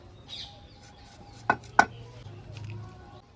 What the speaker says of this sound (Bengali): পেঁয়াজটা কেটে নিচ্ছি